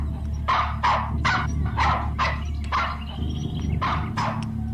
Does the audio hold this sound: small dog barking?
yes